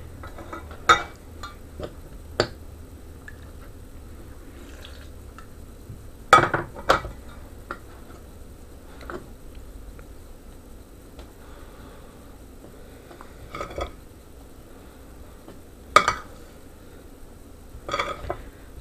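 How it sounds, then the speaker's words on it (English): Bread dough ingredients stirred together in a bowl, quiet rubbing and mixing broken by scattered clinks of utensil against the bowl, close and fairly faint. "So I'm gonna mix all of these in here."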